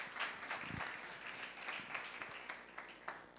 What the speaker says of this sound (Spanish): Me han aplaudido, gracias